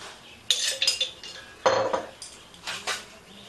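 Metal utensils clink and scrape against a wok while oil goes in for a Bengali fish curry, with several sharp, bright knocks spaced irregularly across a quiet kitchen background.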